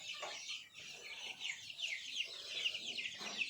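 Chickens cluck and chirp close by, a busy overlapping run of short clucks and squawks from several birds, fairly quiet overall with no talk.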